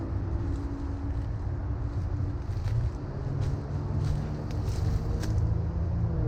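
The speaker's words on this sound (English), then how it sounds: "except you gotta hear all the fucking cars go by." Traffic passes along a road nearby, a steady low rumble of cars with wind buffeting the microphone throughout and no talking.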